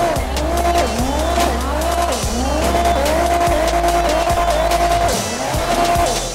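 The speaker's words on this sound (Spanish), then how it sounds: "Ahora se escucha el 2JZ en funcionamiento." A car with a 2JZ engine in the GTA RP video game revs hard through repeated gear shifts, its pitch climbing and dropping in cycles, with tire squeal and skidding, loud and close throughout.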